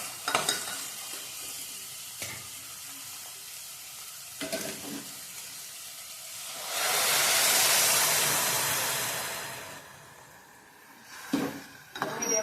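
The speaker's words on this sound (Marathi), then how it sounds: "याच्यात आता गरम गरम केलेलं पाणी ओतूया" Scraping and stirring in a pan while making chicken soup, then a loud, sustained hiss as hot water hits the hot surface and sizzles for several seconds before settling.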